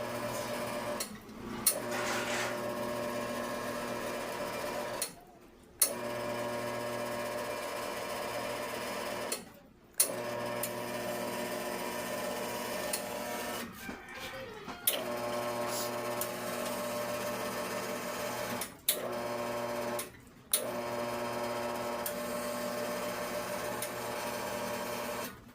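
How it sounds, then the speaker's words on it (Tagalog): A pump runs with a steady mechanical drone and hum, close and fairly quiet, broken by several brief dropouts where the sound cuts off for a moment and then resumes. "Narinig nyo yung andar ng pump."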